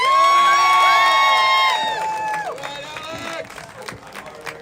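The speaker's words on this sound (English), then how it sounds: "So please give a round of applause and welcome my dear friend Alex" A rally crowd at a conservative protect-our-children event outdoors cheers and whoops loudly, with high excited voices at first, then fading into scattered shouts and claps.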